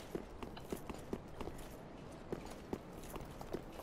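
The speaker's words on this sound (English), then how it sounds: "I hear more of those horse ladies." Hoofbeats of horse-riding enemies in Dark Souls 3 thud faintly in a loose, irregular clip-clop rhythm over a low ambient bed.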